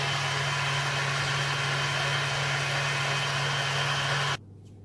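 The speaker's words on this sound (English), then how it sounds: "A couple of drops into that. And whisk it until it forms peaks." Cream with a few drops of bottled vanilla is whisked toward peaks, giving a steady, loud whirring drone that holds evenly for about four seconds and then cuts off abruptly.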